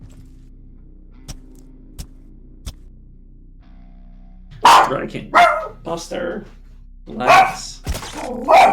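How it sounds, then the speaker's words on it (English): A dog barks several times at close range in a room while a Quasimorph video game plays, the barks mixed with someone speaking, after a few sharp thuds and a quiet stretch. "Sorry about the dog."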